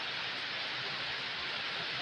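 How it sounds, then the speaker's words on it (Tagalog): Steady rain falls outdoors, an even, dense hiss of drops with no breaks or variation and no voices, heard from indoors. "maulan ngayon"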